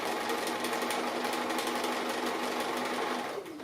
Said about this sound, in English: I'm just doing a straight stitch but free motion, just close to the edge of the applique